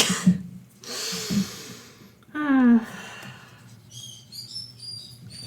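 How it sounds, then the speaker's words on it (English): A pet bird shrieks and chirps in the background indoors, a series of sharp high calls near the end, following breathy sighs and soft close vocal sounds. "There's also a birdie in the background, shrieking"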